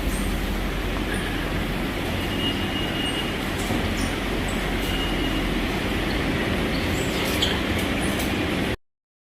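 Steady, loud rumble of a New York subway train at the 1904 Columbia 106th Street station, with faint high squeals from wheels and rails over continuous low roar, no voices.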